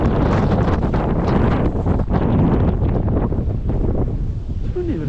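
Strong blizzard wind buffets the microphone in Westchester, New York, a loud, constant roaring rumble that barely eases across the whole stretch, with no voices standing out.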